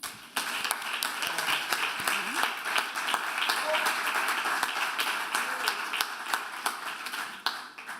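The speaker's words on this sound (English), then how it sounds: "So can we all give her a warm round of applause?" A warm round of applause fills a graduation hall, with dense, steady clapping from a large crowd sustained for several seconds before tapering off.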